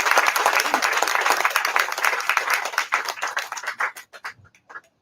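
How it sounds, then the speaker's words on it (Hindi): An audience claps steadily at a live talk, dense sustained applause that thins into a few scattered claps before fading out. "तो तालियां बंद नहीं होनी चाहिए"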